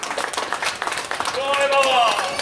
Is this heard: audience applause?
yes